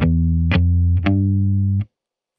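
Scarbee Rickenbacker sampled bass played through the clean direct layer alone, four sustained rock bass notes picked one after another with distinct attacks, loud and close, ending abruptly in silence.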